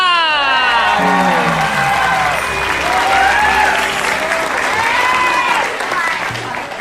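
A studio audience at an Indonesian comedy talk show bursts into loud, sustained applause with scattered cheers and whoops, filling the room for several seconds.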